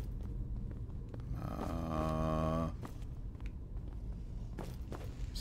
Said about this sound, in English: Still hear breathing.